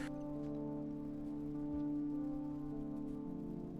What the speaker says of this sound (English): The rain approaches.